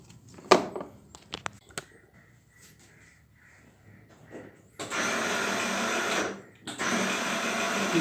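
A battery-operated mini electric toy car's motor whirs steadily and fairly loudly in two long stretches with a brief break between them, after some scattered clicks and handling knocks.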